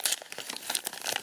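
Paper packaging from a Littlest Pet Shop toy being crumpled close up, quick crinkly bursts in an uneven rhythm over just over a second, with no voices.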